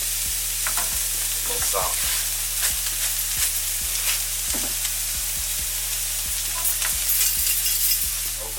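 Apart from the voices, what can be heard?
onions and peppers frying and being stirred in pan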